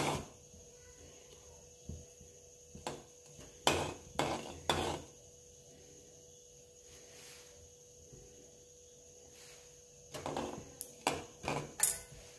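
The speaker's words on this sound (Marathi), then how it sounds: "मोहरी तडतडली" Mustard seeds crackle in hot oil as a tempering for a tomato chutney, giving sparse, irregular sharp pops and snaps, some in quick clusters, fairly faint over a quiet hiss.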